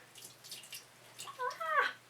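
Plant-food water poured back into a container, a short, quiet pour near the end whose tone rises as it fills, with no talking.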